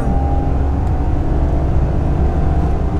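Ford Ka Titanium 1.5 automatic accelerating hard from a standstill, its engine droning loud and steady as it climbs through second and third gear, with road and tyre rumble underneath throughout.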